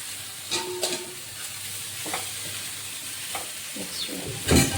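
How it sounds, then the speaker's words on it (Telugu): Boiled pasta tipped into a hot pan for white cheese pasta and stirred, giving a soft steady sizzle with a few scraping clatters and a louder stir near the end. "ఇప్పుడు దీంట్లోకి అయితే మనం బాయిల్ చేసుకున్న పాస్తాని అయితే యాడ్ చేసేసుకుంటున్నాం"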